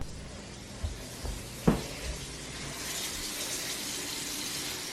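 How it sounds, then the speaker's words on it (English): Hands being washed with soap under a running tap at a sink, with a few soft knocks and a sharp clunk early on, then a steady, moderately loud water hiss that grows fuller and continues to the end, with no talking. "How much soap are you using? Well, I've washed my hands about 5 times so far."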